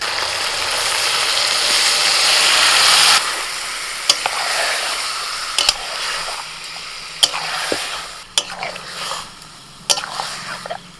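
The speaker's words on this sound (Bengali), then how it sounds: "ওখানে পেঁয়াজটাও ভাজা হয়ে গেছে এবারে চিকেনটা দিয়ে দিচ্ছি" Marinated chicken hits a pan of fried onions with a loud hiss, then settles into steady sizzling broken by sharp scraping clicks of a spatula stirring the pieces, no talk.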